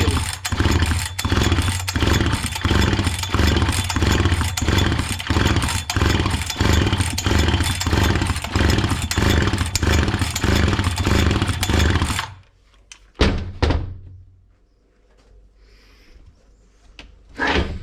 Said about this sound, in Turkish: Ardından starteri çekin.